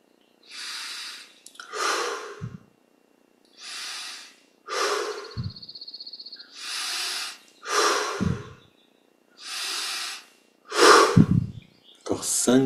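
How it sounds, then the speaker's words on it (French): Deep breathing during a meditation exercise, with long, loud, close inhales and exhales alternating at a slow, regular pace and short silences between each breath. "On augmente un petit peu l'amplitude des respirations."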